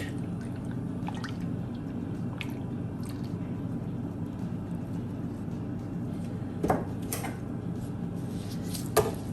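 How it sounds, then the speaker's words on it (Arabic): Liquid soap solution made with distilled water is stirred gently in a container, giving soft squishy, drippy sloshes with a couple of sharper splashes near the end over a steady low background, no talking. "ده المحلول بتاعي، هقلبه تقليبة كده بسيطة تاني"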